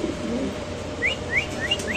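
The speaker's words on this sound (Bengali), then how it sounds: "একটু মাদিরে ধরে নরের ডাকটা একটু দেখা দেন তো ভাই।" A male fancy pigeon calls nearby, giving a few soft repeated calls that begin midway and recur every fraction of a second over a low background hum.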